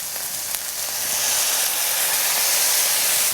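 Tempeh bacon frying in a pan with marinade, a loud close hissing sizzle that swells after a second and holds steady, no voices.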